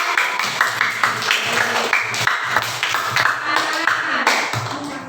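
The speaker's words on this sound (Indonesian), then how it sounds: "Saya kasih tepuk tangan dong." Children in a primary school classroom clap their hands together after the teacher asks, a loose patter of claps mixed with chatter and voices nearby throughout.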